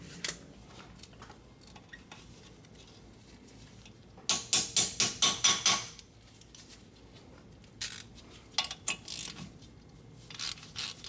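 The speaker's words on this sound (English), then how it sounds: "So now the next step is gonna be removing this wheel speed sensor." A ratchet wrench loosens the wheel speed sensor bolt on a Toyota Highlander during front wheel bearing and strut work: a quick burst of about eight sharp clicks, followed by a few scattered metallic clinks against quiet background.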